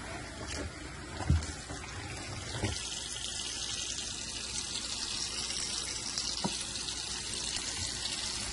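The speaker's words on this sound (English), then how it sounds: "Just washing it first, making sure it's clean, and then you can see the water is steaming there." Hot water runs steadily from a tap over a denim skirt being washed in a sink, a constant hiss of flowing water with a few soft knocks early on.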